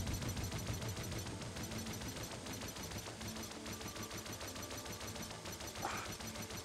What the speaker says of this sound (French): C'est une vraie mitrailleuse de 14-18